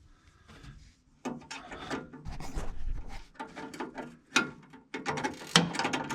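A hand wrench tightens bolts on a Massey 8570 combine being prepped for wheat harvest, close-up irregular ratcheting clicks in bursts with metallic clanks between, no talk.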